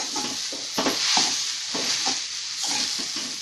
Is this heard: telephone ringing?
no